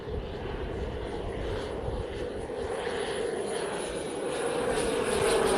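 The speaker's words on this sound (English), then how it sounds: "There's that damn loud plane." A private jet passes overhead, a loud steady engine roar that slowly swells as it nears, heard alone with no talking.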